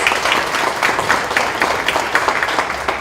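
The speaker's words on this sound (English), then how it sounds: "please give her a round of applause" A school board meeting audience gives sustained applause for a student who placed second in the state in broadcast journalism, dense steady clapping from a roomful of people with no talk over it.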